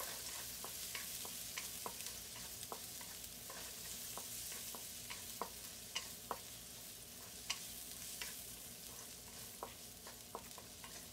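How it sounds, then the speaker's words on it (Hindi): One medium onion sautés gently in a pan over a medium flame, with a soft continuous sizzle and scattered spoon scrapes and taps as it is stirred, quiet and with no talking. "One medium onion. हल्के से सौटे करेंगे।"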